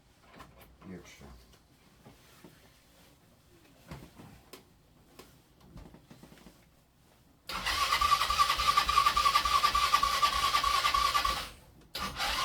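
A 125cc four-stroke motorcycle with a suspected carburettor fault, first some handling and scraping noises with a voice, then the engine catches and runs at a loud steady buzzing idle for several seconds before cutting off abruptly.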